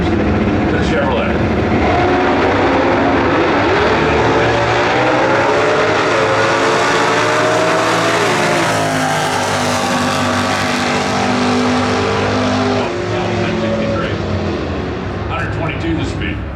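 1967 Chevrolet Camaro SS 396 launching at a drag strip in a stock-class race: a loud, sustained engine roar with rising and falling pitch as it accelerates away, under track announcer commentary.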